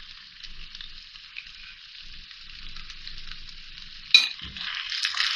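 Chicken macaroni with hot sauce frying in a pan, a steady hissing sizzle throughout, then a sharp metallic clink and a burst of scraping as it is stirred near the end.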